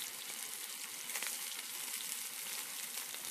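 Sea scallops sear in a hot pan, producing a dense, steady sizzle at moderate volume. No one speaks over it.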